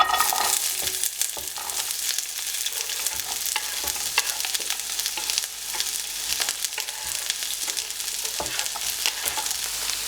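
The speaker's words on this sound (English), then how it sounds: "Now that the oil is heated up a bit, I'm going to add my onions." Chopped onions fry in heated vegetable oil in a pan, giving a dense, continuous crackling sizzle with scattered stirring scrapes, close and steady throughout.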